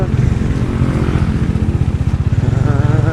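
A Honda motorcycle engine runs steadily up close with a continuous throbbing drone, loud and unbroken throughout.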